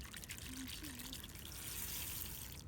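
Urad dal being rinsed in water, a steady wet trickling and sloshing that runs continuously at moderate level, close by, with no talk over it.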